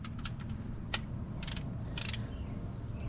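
Ratchet clicking on a 19 mm socket while working under a vehicle raised on a lift, with 3.5-inch suspension lift parts; a few short bright ratcheting bursts over a steady low garage hum, close and moderately loud.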